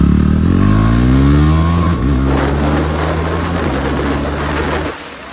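KTM Duke motorcycle engine revs up loud and close, its pitch climbing, dipping briefly, then holding at a steady high idle-rev before cutting off abruptly near the end.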